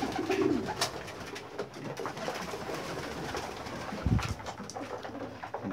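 Domestic pigeons kept in a coop coo softly and intermittently at close range, with a few low throaty calls standing out amid quiet fluttering and shuffling, and no speech.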